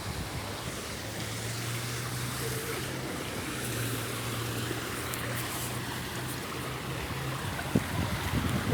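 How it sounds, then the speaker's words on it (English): Waterfall water rushing and spraying on a nature walk, a steady faint wash of falling water with soft low rumble and a brief splash near the end, no speech. "Waterfall is spraying me."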